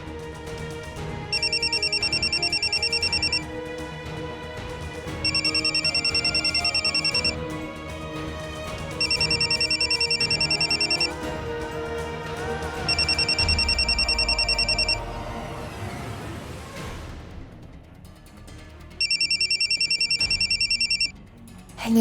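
A telephone rings unanswered in repeated bursts of electronic tone, five rings spaced a few seconds apart over a steady indoor background, with no one picking up.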